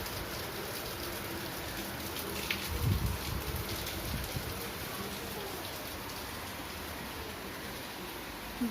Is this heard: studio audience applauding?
no